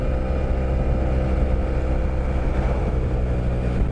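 A 2017 Yamaha TMAX530 scooter cruising along a national road, with a loud steady engine drone and heavy wind rush, continuous and close.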